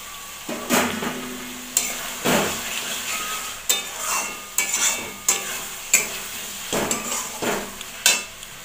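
Fried potatoes stirred into a frying masala for a fish-head curry, with repeated scraping and clinking strokes of a spoon against the pan over a steady sizzle, close and fairly loud.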